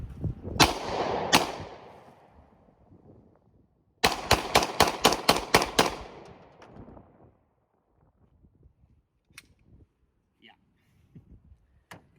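A Gen 4 Glock 20 10mm pistol fires at a target: two loud sharp shots, then a rapid string of about seven shots, each with echoing decay, followed by quieter clicks and faint speech.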